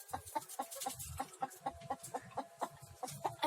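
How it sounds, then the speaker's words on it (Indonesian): Close chicken clucking from a village flock in Sukabumi, Indonesia, a rapid series of short, regular clucks over a quiet background. "Tuh, ada ayam juga tuh."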